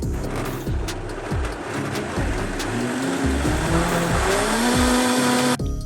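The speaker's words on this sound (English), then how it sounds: "All you gonna do is put everything in the blender and blitz it up." A blender blitzing mojo sauce ingredients makes a loud, steady motorized whir with rising and falling pitch and repeated thumps, running continuously for several seconds, then stopping abruptly.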